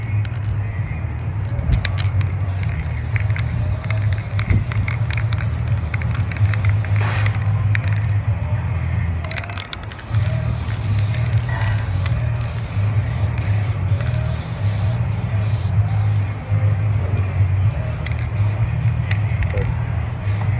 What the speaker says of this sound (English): I keep this one on me to pre-spray the skin after it's clean